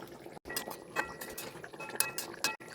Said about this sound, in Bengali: দেখে নিই, একটু মাঝে নাড়িয়ে দিলাম।